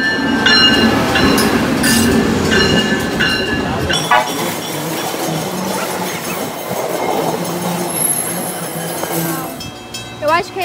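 A passenger train rolls into a station in the northeastern United States, with rumbling cars, metallic clinks and clicks over the rails and a brief high wheel squeal, close by and fairly loud, while a voice talks intermittently.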